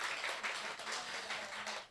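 Modest applause rings out from a church congregation during a Sunday service, a steady ripple of many hands clapping at moderate distance, fairly soft and even, fading slightly at the end.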